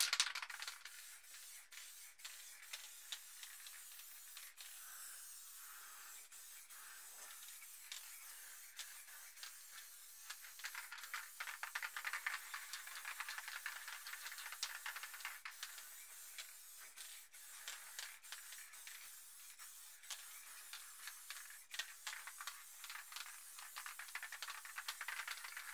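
Montana White spray paint can hissing out black paint in a long, steady spray with brief pauses and short bursts, close and continuous, with light rattling and rubbing alongside.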